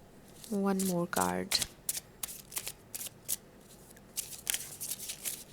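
A deck of cards being shuffled, with quick riffling bursts and scattered card snaps running through the clip, while a voice speaks over the first part.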